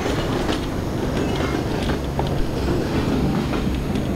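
A moving train in the video game Half-Life 2 rolls past, a loud continuous rumble with rhythmic clickety-clack of wheels on rails and faint squeals, steady for several seconds without talk.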